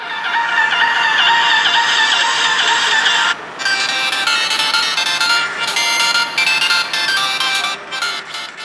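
An Oppo F3 smartphone plays a ringtone through its single speaker, a loud, bright, tonal melody of repeating notes, heard alone with brief gaps between phrases.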